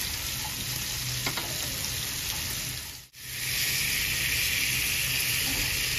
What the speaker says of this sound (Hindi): एक तरफ फिश फ्राई हो रही है